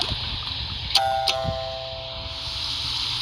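A doorbell chimes once with two quick tones, ding then dong, that fade slowly over a steady background hiss.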